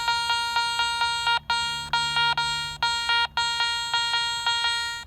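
A metal detector's electronic beeping tone over buried iron at an 1850s house pulses in rapid repeated bursts with a harmonic, buzzy timbre, brief gaps between groups, loud and steady.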